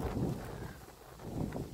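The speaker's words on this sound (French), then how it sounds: "il y a encore toujours du vent" Wind blows outdoors as a short, low, rumbling rush against the microphone, fairly steady with slight swells at the start and end, no voices heard.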